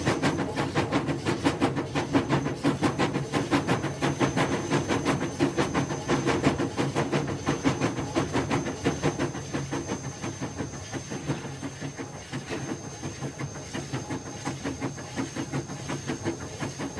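Mohanagar Express passenger train between Dhaka and Chittagong running at night, heard from an open doorway as a steady rumbling roar with a dense run of rhythmic wheel clatter, loud and close throughout with no talk.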